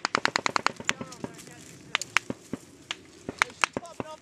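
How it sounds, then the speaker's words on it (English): Gunfire in combat in Afghanistan between US forces and Taliban: sharp bursts of rapid rifle shots, some clustered in quick volleys, others single cracks, moderately distant, with soldiers talking between the shots. "They're just shooting over our heads."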